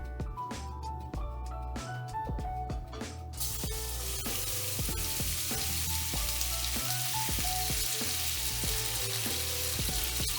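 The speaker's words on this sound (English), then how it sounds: "put the belly pork in and basically sear it on all sides." Pork belly searing in a tablespoon of vegetable oil in a pan for Vietnamese braised pork, a loud continuous frying sizzle that swells stronger after a few seconds, with scattered crackles and pops.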